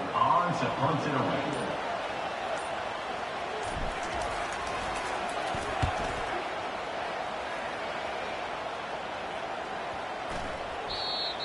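Crowd at a college football game between Florida State and Florida, a broad steady stadium roar filling the background throughout, with a commentator talking over it.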